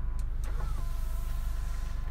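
An electric side mirror on a 2015 Kijang Innova 2.0 V Luxury automatic retracts with a short motor whir over the steady low hum of the idling car, close and brief.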